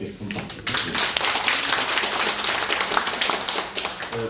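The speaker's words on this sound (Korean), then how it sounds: "다시 한번 김정능 소장님께 큰 박수 부탁드립니다" An audience at a policy forum in Seoul's Press Center applauds a speaker with dense, steady clapping that runs for several seconds, with voices mixed in.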